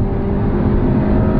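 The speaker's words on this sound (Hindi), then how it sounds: "तो ये मैंने पूरा थ्रॉटल दे दिया है" Luxury convertible car in sports mode accelerating hard at full throttle, a loud, steady engine roar with dense low rumble filling the whole moment, close and continuous with no talk over it.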